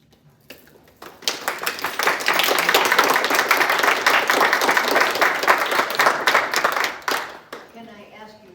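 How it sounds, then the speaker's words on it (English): An audience at a legislative candidate forum breaks into applause that swells quickly, holds as dense steady clapping for several seconds, then dies away. "Can I ask you not to applaud?"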